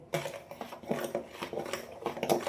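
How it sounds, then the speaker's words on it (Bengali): A spoon scrapes and clinks steadily against a bowl while rice flour and wheat flour are stirred together for taler bora batter, a close, quick run of small metallic taps with no talk. "প্রথমে চামচে মেশাবো, তারপরে হাতে ভালোভাবে ফেটাবো।"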